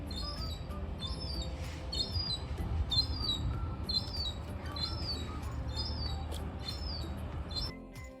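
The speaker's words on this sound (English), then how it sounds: "We're listening to all the birds." Birds chirp repeatedly in short, regular bursts over a steady low rumble of outdoor background noise, moderately distant, at Castle Hill by Inverness Castle in Scotland.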